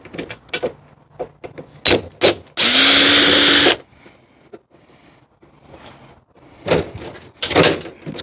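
A power drill removes screws from a treadmill cover, giving one loud whirring burst of about a second, surrounded by close clicks, clunks and handling knocks.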